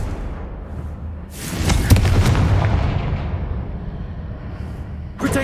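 A Confringo blast curse explodes in the Hogwarts Legacy video game, a loud fiery burst that opens with a sharp crack and then roars and rumbles for several seconds before a second burst begins near the end.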